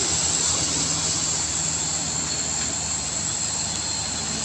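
A heavily loaded diesel truck grinding up a steep hill at Tanjakan Kedabuhan, its engine a loud, steady, unbroken drone throughout.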